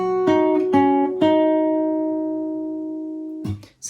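Clear guitar notes play the intro of a song: a few plucked notes and chords ring out cleanly, one sustaining chord fades slowly, then brief strums close the phrase.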